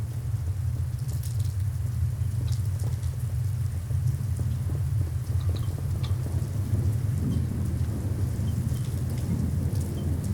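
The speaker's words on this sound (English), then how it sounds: "The sudden clap of thunder had shaken him from his deep sleep." Heavy rain pours steadily through a thunderstorm while deep thunder rumbles underneath, the downpour loud and continuous with no voices.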